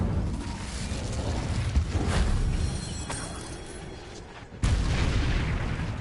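Incendio fire spell cast in a wizarding video game, heavy whooshing, booming bursts that swell and fade, with a sharp loud blast near the end, and no voices.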